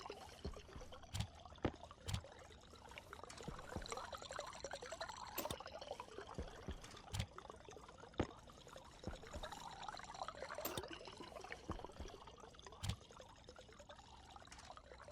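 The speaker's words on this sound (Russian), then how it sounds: "Я бутылочки свои заполнил." Bottles being filled with water in the game Stationeers on Mars: a faint, continuous pouring and trickling with scattered sharp clicks, no talk.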